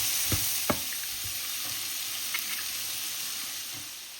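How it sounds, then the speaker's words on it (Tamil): Carrots and beans stir-fry for idiyappam kothu, a steady frying sizzle with a few soft stirring knocks from a spoon in the pan, close and fairly quiet, no talking. "நாங்கள் அடித்து வச்ச கரட்டையும் போஞ்சியையும் போட்டு வதக்கிட்டு"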